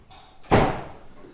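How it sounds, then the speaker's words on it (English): A door is shut with a single loud slam and a thud that rings and decays over about a second, following faint indoor background noise. "I'm just going to go shut the door."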